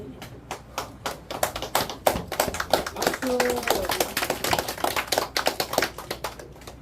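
A gathering at a church celebration event claps in uneven, scattered bursts, the rhythm loose and moderately near, with voices talking faintly underneath.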